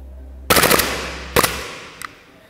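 An airsoft Glock R18 gas pistol fires on full auto: a loud, close, rapid burst lasting about a quarter second, then a shorter second burst and one faint final pop as the gas runs out.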